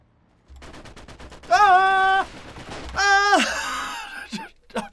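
Bolt-action rifle fire in WW2 Online: a few sharp gunshots punctuate the clip, mixed with loud groaning and wailing cries in between, close and fairly loud.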